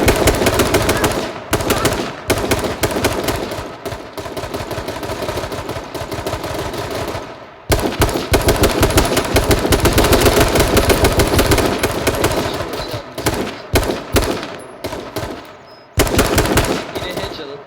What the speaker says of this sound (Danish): De skyder lige fremme.